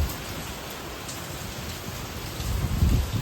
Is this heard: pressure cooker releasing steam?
no